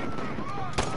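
Gunfire in the video game Call of Duty: Modern Warfare, with a sharp burst standing out from a dense, continuous layer of game noise in this short moment.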